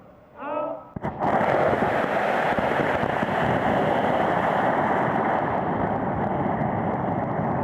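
A homemade experimental rocket motor ignites with a sharp crack after a brief rising whine, then roars in a loud, steady, broadband hiss that holds for several seconds.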